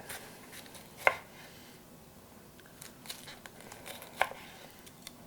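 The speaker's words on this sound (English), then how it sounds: "we're going to cut them julienne style" Two sharp knife cuts through red pepper on a board, spaced about three seconds apart, crisp and close in a quiet kitchen, with faint soft handling noises between.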